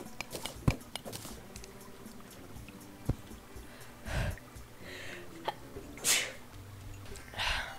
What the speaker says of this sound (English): The sneezes just get more violent.